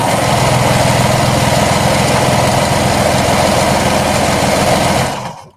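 A sewing machine stitching a seam on a knit skater dress, a loud, steady, close motor whir with a rapid even needle rhythm running continuously, then winding down and stopping near the end.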